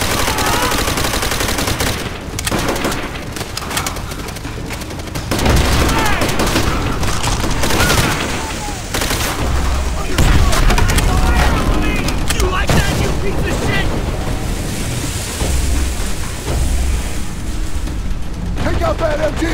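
Heavy gunfire fills a Call of Duty World at War battle, with dense bursts of rifle and machine-gun shots and booms continuing throughout while soldiers shout.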